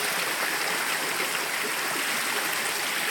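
Stream water rushes past stones in a Konkan creek, a steady, dense, close wash with no pauses and no voices.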